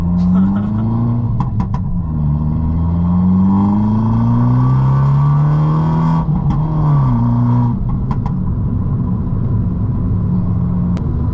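A Fiat 500 Abarth EsseEsse with a Stage 1 tune and pop mapping set around 2500–2700 rpm, its engine revving up and down loudly in a continuous rising and falling drone, heard from inside with several sharp crackles.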